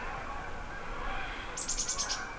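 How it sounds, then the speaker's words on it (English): Songbirds singing at sunrise in Michigan wetland country, a quick run of repeated high chirps standing out over steady outdoor ambience and a soft wash of distant calls. "songbirds pretty much everywhere"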